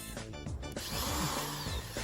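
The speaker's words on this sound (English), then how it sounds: "What's he gonna do with this drill?" A power drill with a misaligned bit whirs in short bursts and then runs steadily, close and fairly loud, with a rough grinding texture and no talking over it.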